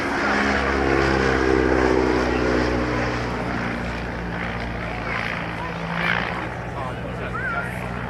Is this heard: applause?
no